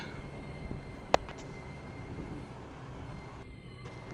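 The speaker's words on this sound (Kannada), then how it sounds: "ನಮ್ಮ ಟ್ರೈನ್ ಈಗ ದೊಡ್ಡಬಳ್ಳಾಪುರ ಜಂಕ್ಷನ್ಗೆ ಬಂದಿದೆ" Hampi Express train pulling into Doddaballapur junction at platform two, a steady rolling rumble of railcars with one brief sharp clank just past the first second, no voices.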